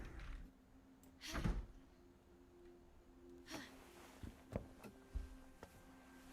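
A door shuts with a single soft thunk inside the game What Remains of Edith Finch, followed by a few quieter knocks and creaks over a low ambient hum, with no voices present.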